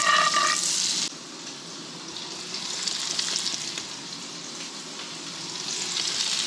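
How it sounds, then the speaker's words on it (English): Summer flounder fillet frying in oil and butter, a steady close sizzle that is loudest in the first second, then settles into a softer, even crackle that slowly builds again. "I'm frying this, but I really did put a little too much oil"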